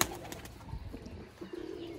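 Pigeons trapped in a net coo softly, low murmuring calls with faint rustling, fairly close but quiet.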